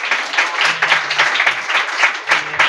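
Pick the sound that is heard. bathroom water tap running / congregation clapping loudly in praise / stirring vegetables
congregation clapping loudly in praise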